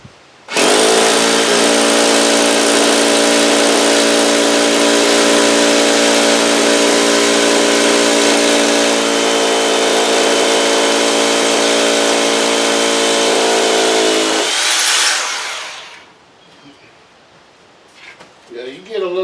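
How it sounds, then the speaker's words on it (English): A loud, sustained hammer drill roar drilling concrete, with a steady motor whine, runs for about fourteen seconds, then cuts off, leaving quiet background noise. "You're gonna want a good hammer drill when you're drilling out the concrete."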